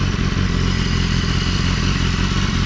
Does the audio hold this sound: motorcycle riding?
yes